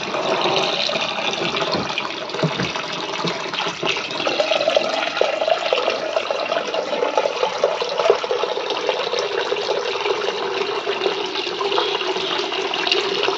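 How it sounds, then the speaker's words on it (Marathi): Steady water pouring into a cooker to fill it while a new clay cooking pot is prepared for soaking, a continuous close splashing rush with no pauses and no talk. "तर यामध्ये आपण अजून पाणी घालून घेऊया."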